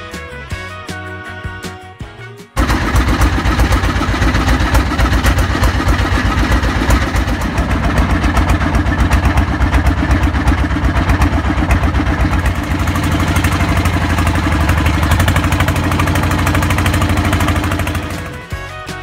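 A boat engine idling close by at Lewalu, Wolwal, Alor, NTT: a loud, steady low chugging rumble that starts abruptly after a few seconds and carries on almost to the end.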